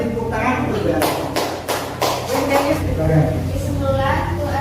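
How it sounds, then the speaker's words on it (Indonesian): A classroom of students clapping hands during an Islamic studies lesson, a few loose bursts of claps, close and fairly loud, with voices under it. "Kita beri tepuk tangan untuk berani."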